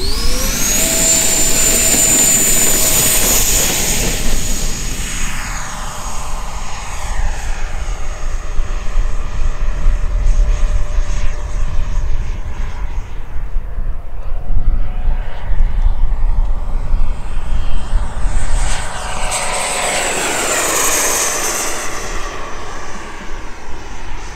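A Black Horse Viper XL model jet, 1.9 m span with a 100 mm WeMoTec Midi Evo HET electric ducted fan on Li-ion packs, takes off with a loud, steady high-pitched whine that rises at the start, holds, and surges again near the end.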